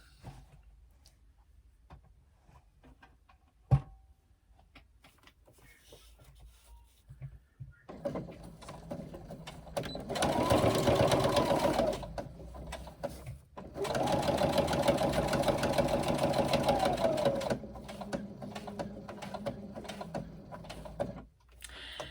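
A sewing machine stitching a 3/8 inch seam on fabric: after a quiet start with a single click, the motor runs in two steady, moderately loud bursts with a short pause between, then slows to lighter running.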